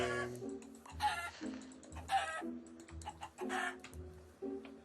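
Repeated synthetic clucking of Minecraft chickens in a steady looping rhythm, clear and close, with short clicky ticks between, no voices.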